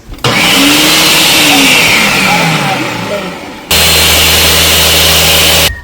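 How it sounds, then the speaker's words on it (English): Flax seeds being ground in an electric grinder, a loud motor whir running for about three and a half seconds, then a second, steadier burst that cuts off sharply. "Here are the flax seeds. We need to grind."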